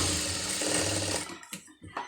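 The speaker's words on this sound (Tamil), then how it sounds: "இதை வந்து அப்படியே தையல் ஓட்டிடுங்க" A sewing machine runs steadily while stitching a sleeve joint on a garment for a beginners' tailoring class, then stops, followed by a few soft handling clicks and rustles nearby.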